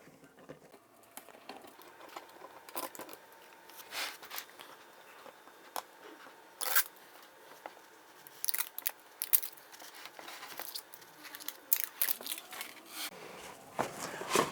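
Protective plastic film is peeled off computer packaging for an AMD Ryzen 9 3950X processor and MSI X570 Prestige board: close, quiet crinkling with irregular sharp crackles and tearing snaps.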